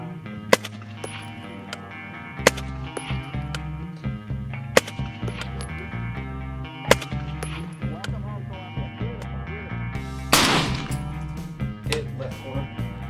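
FN SCAR 20 rifles in 6.5 Creedmoor fire at a long outdoor range, each sharp shot followed by a faint ring of steel targets far downrange, with several spaced shots repeating over steady background noise and talk.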